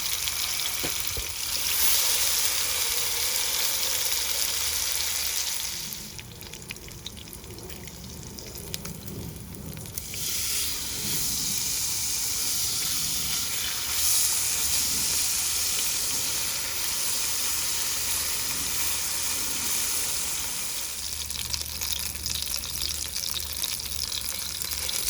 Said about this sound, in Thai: ย่างในกระทะแล้วก็ใส่น้ำมันลงนิดหน่อยนะครับ